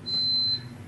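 A single high electronic alarm tone sounds for about half a second, steady and fairly loud over a quiet room background.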